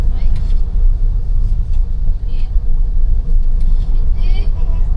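Slow, congested traffic on the Skyway makes a steady, loud, low rumble of car and bus engines with faint passing hisses, and voices can be heard over the noise.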